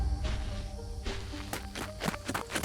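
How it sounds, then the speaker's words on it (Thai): Footsteps of a person running, a quick series of soft, faint thuds that quicken toward the end, heard alone against a quiet background. "มีเสียงฝีเท้าคนวิ่งกระหืดกระหอบ"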